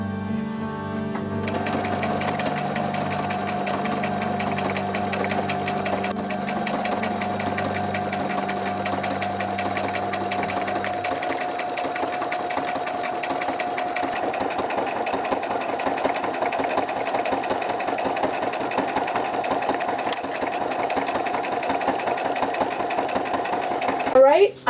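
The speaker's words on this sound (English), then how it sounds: "let's head on over to the sewing machine and I'll do a little bit of stitching." Sewing machine doing decorative stitching on a scrapbook layout: a steady, continuous mechanical whir and rapid needle chatter running for most of the stretch, with an early low hum.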